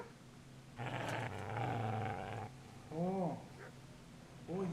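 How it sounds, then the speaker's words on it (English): A dog growls and barks in the medieval role-playing game Kingdom Come: Deliverance, a sustained throaty snarl followed by a few short yelping barks, close and clear against faint background. "Get away, you mutt!"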